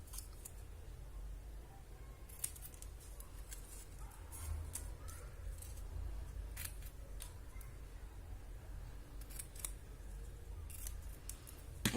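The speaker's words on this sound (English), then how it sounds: "So I will just go and cut this banner shape again." Scissors snip through paper, cutting a banner shape for a handmade Christmas card. Quiet, close, irregular crisp cuts come one after another with soft rustling between them.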